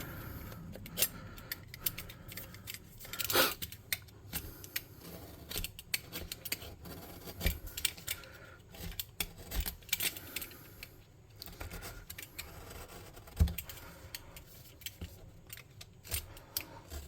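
Blade drawing cuts that bevel the edges of handmade tabletop scatter terrain, heard as many short, crisp slicing and scraping clicks in an irregular rhythm, close but quiet.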